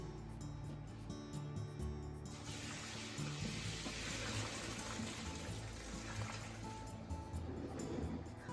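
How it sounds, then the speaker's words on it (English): Udon noodles rinsed and rubbed together under a running kitchen tap, a steady close broadband rush of water with scattered squeaks and handling clatter throughout. "Wash the noodles under running water really well by rubbing it against each other to remove the stickiness and starchiness on the surface"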